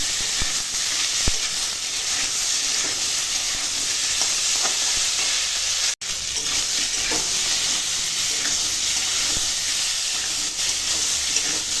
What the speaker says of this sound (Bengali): মশলাটা কষিয়ে নেবো আনাজের সঙ্গে